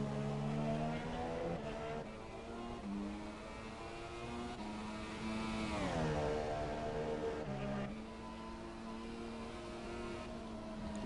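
An F1 race car laps the track in a racing video game, its engine note whining steadily and climbing through gears, with a loud rising surge near the middle before easing off.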